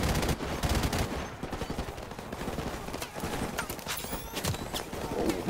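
Gunfire in the video game Call of Duty 4, dense rapid bursts of shots and machine-gun fire crackling continuously and loudly, with no clear speech over it.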